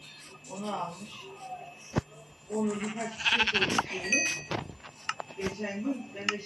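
Minecraft sheep bleats sound several times under a person's talking, mid-distance and moderately loud, with a few clicks and bumps around them.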